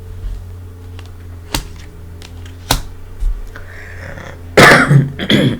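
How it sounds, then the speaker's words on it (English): A lingering post-COVID cough bursts out near the end, followed by a couple of rougher throaty bursts, after a few faint sharp ticks in a quiet room. "I cannot get rid of this cough"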